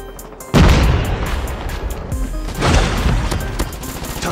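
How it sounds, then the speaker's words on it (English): A frag grenade explodes in Call of Duty Mobile, a loud sudden boom followed by a rumbling blast tail and a second heavy explosion swell, alone without talk. "Grenade out!"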